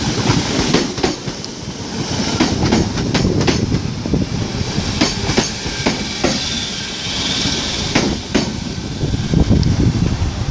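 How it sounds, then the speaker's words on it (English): A Merseyrail Class 507 electric train pulls into Sandhills station on a service to Ormskirk, with loud, continuous rumbling, rhythmic clickety-clack of wheels over rail joints and sharp metallic clunks, heard close up for several seconds. "Now arriving in, we have the 1318 service to Ormskirk, formed of 507026."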